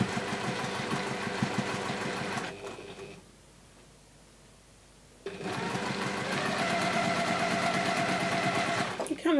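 Sewing machine stitching fabric strips, running in a steady motor whirr that stops for a couple of seconds midway, then resumes and carries on to the end.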